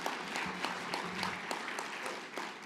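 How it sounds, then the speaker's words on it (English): Audience applause at a live-streamed animal rescue event, a steady round of clapping from a room of people, moderately loud and continuous for a few seconds with no talking. "give yourselves a round of applause before we continue"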